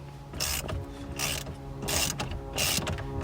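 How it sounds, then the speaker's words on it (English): A ratchet with a 21mm socket and extension loosens the steering wheel center bolt on a 2006-2010 Pontiac Solstice, producing close, repeated bursts of rapid clicking separated by short pauses. "we're going to actually remove the center bolt here. You do need a 21mm and an extension to clear the steering wheel."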